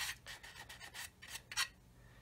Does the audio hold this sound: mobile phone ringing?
no